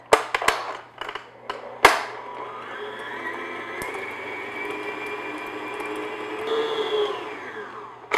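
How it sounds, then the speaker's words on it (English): An electric mixer beats unsalted butter until smooth, a loud continuous whirring drone with the motor pitch shifting slightly near the end, after a few knocks and clatters at the start. "I'm just going to beat it just until it gets nice and smooth"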